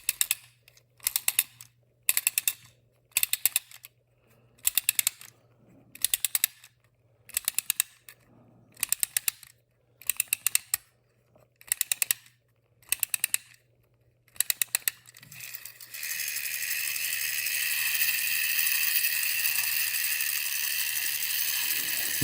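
Clockwork HO-scale Lincoln International toy train running on a simple oval of black plastic track after being lubricated, giving rapid clicking bursts in a steady rhythm, then a continuous whirring rattle as it runs on, close and fairly loud.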